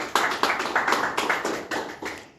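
Rhythmic unison clapping from a church congregation rings out close and loud, about eight firm beats in a steady pulse that then fades away.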